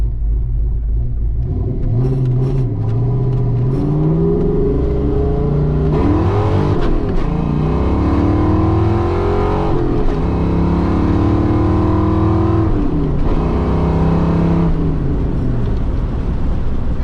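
Fox body car fitted with 3.73 gears and new tailpipes, its engine revving and accelerating in a steady, loud rumble throughout with rising and falling pitch sweeps, no talking.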